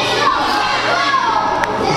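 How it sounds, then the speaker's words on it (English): Wrestling crowd at the Battle Zone chanting together, a dense steady roar of many voices filling the whole clip at close range. "Crowd here at the Battle Zone with chants of "You Can't Wrestle.""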